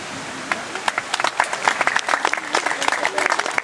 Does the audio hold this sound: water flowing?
no